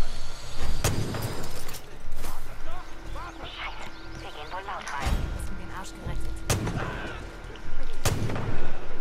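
Gunfire rings out in a co-op session of the video game Far Cry 5: several sharp, loud shots spaced a few seconds apart, with excited voices talking between them over the game's ambient backdrop.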